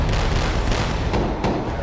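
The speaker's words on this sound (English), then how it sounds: "these automatic cannons would be able to take out a small boat 2 kilometers away" A warship's automatic cannon fires at a target, a loud, dense burst of rapid booming shots in quick succession that blend into a continuous roar.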